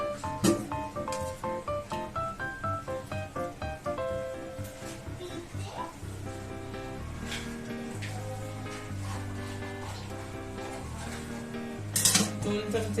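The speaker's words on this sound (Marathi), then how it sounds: "कढई ठेवली. कढईमध्ये आपण तेल टाकूया." Oil goes into a kadhai on the stove as the metal pan and utensils clink and clatter in quick irregular knocks, over soft background music.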